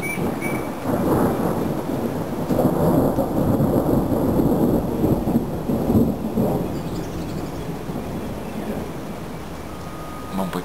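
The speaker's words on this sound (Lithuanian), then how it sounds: "man patinka žaibai, man patinka kai lyja." A thunderstorm rolls with deep, sustained rumbling over a steady wash of falling rain, continuous and fairly loud throughout, easing slightly toward the end.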